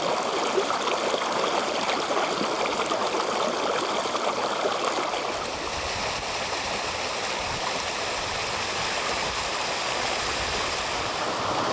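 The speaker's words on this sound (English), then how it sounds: "the Tees is still a very narrow stream" The River Tees runs as a narrow upland stream just below soggy moorland summits, a steady, close rush and babble of water that fills the whole stretch without pause and with no voices.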